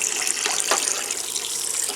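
Water runs steadily from a camper shower tap at strong pressure, a continuous close hiss and splash with no talk.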